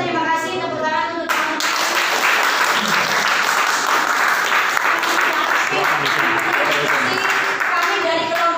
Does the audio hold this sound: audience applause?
yes